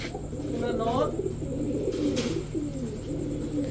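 Soft, low pigeon cooing repeats in a steady murmur, with a constant hum and occasional faint rustles in the background.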